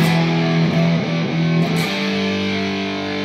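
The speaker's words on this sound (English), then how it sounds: "So this is the distortion coming from this" A distorted electric guitar run through a Line 6 HX effects unit rings out with a thick, saturated crunch, a few chords struck early and then left to sustain steadily.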